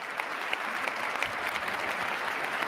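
Continuous crowd applause at a political rally in Louisiana, a dense wash of many hands clapping at steady volume, with a few sharper claps standing out and no speech over it.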